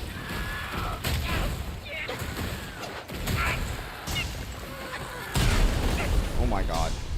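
Flying turrets in a video game fire bursts of booming, crashing shots with mechanical clatter, close and loud, while a voice talks excitedly over the gunfire.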